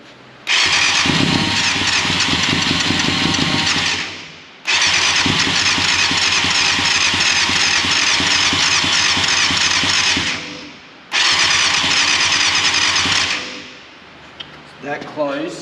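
A 1989 Yamaha FZR600 Genesis motorcycle engine cranks and catches three times in succession, each burst revving loudly and close for several seconds before dying away, with a brief quieter stretch and faint talk near the end.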